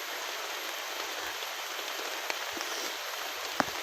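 Steady, dense heavy rain pouring down on a mountain, a constant hiss with a couple of sharper drips or taps standing out near the end.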